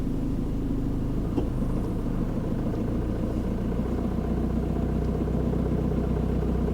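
A Ford car engine hums with a steady low rumble, heard from inside as the driver tests whether the revs are enough, constant and moderately loud without talk.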